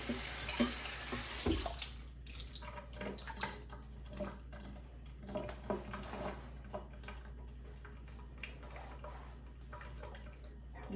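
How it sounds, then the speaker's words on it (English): Tap water splashes and runs over a cutting board being rinsed in a kitchen sink, a faint, uneven trickle with a few knocks of the board, no talking. "I'm gonna give my board a quick rinse so I can cut my apples on the same board."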